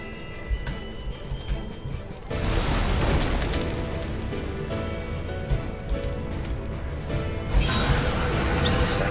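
Cannon fire in the video game Final Fantasy XIV: Stormblood, a sudden loud boom giving way to a sustained dense rumble that swells again near the end, with faint game effects before it.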